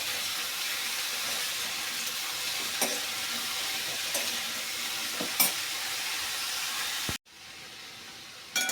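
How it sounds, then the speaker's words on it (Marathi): Sweet potato slices sauté in ghee with a steady close sizzle and occasional stirring scrapes, ending in a sudden cut to quieter hiss. "त्यामध्येच टाकूया रताळ्याचे काप। याला छान तुपामध्ये परतून घ्यायचं आहे।"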